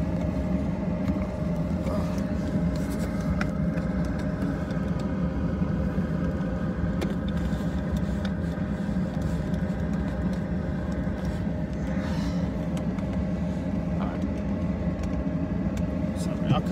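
A car cruises steadily through a small hometown, its engine and road noise forming a constant low rumble throughout, with a voice talking over it.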